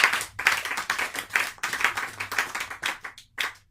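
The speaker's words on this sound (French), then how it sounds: "Est-ce que nous pouvons acclamer pour notre Seigneur?" A church congregation claps and applauds together in rhythmic, fairly steady bursts, moderately distant and filling the space.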